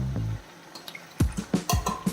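Water is poured in short splashing bursts into a pan of ridge gourd gravy, with several distinct wet plops and pours, near and moderately loud, no talking.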